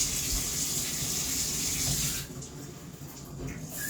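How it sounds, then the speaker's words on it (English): Shower water running steadily for washing a child's natural hair in kinky twists, a loud broad hiss that drops in level partway through as the stream shifts. "going to go ahead and have her get in the shower, wash all this off"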